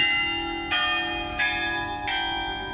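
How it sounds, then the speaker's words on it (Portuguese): A church bell rings in a town square, struck three times at a steady interval, each loud clang blooming and ringing on over the last with no talk. "Olha o sino da igreja da praça"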